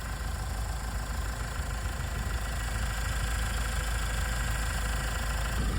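A Mahindra Scorpio N diesel engine idles with a steady, close rumble and a faint knocking clatter, holding a constant loud drone throughout with no voices over it.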